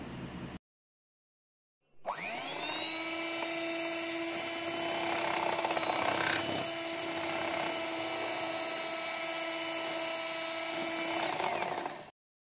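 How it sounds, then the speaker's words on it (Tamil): An electric hand mixer beats strawberry paste into sweetened condensed milk for ice cream, starting after a brief silence and holding a loud, steady, high-pitched whine for about ten seconds before cutting off. "இப்போ மெயின் இன்க்ரீடியன்ட்ஸான ஸ்ட்ராபெரி பேஸ்ட் ஆட் பண்ணி நல்லா பீட் பண்ணணும்."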